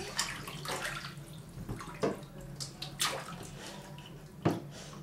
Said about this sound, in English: First bath time together.